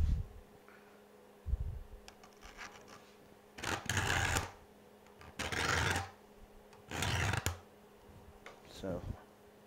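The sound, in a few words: filing saw teeth during hand saw sharpening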